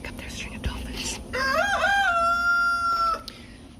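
A rooster crows once in a long, drawn-out call that rises and then holds steady, fairly close and loud, with faint rustling and background noise before it and no talking.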